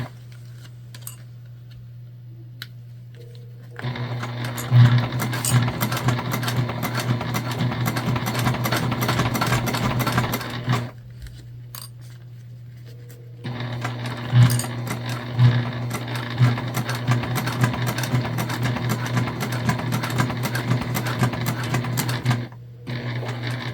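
A sewing machine stitches a Zora shoulder bag in two long runs of rapid, loud mechanical chatter, each lasting several seconds, with a steady low hum through the quiet pauses and no voices.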